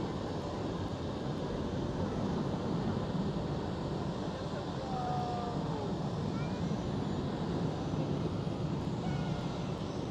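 An airliner taking off at Schiphol Airport, Amsterdam, with its landing gear retracting: a steady, broad jet roar holds at an even loudness throughout, with no distinct gear clunk standing out.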